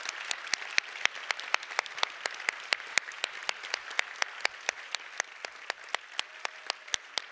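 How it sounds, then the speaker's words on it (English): An audience at an EU youth conference in Växjö claps in a steady, evenly spaced rhythm, crisp individual claps ringing out over a soft bed of room noise throughout. "Applause"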